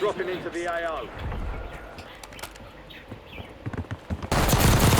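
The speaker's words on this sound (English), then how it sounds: "notice how I am shooting at those enemies and then I back off because there's too many." Gunfire from Call of Duty on Rebirth Island arrives as a loud burst of automatic shots near the end, after quieter in-game sounds and a voice at the start.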